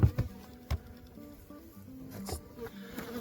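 Honeybees buzz faintly around a winter hive, a thin, steady drone under a few close knocks and rustles.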